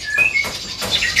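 A competition-quality songbird kept in a small house calls with short, sharp, high chirps and whistles, close and clear across about a second.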